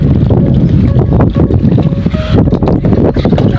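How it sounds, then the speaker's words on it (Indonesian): Strong wind buffeting the microphone outdoors in loud, gusty rumbling bursts that continue through the whole moment, with no talk. "Anginnya gede banget sumpah teman-teman."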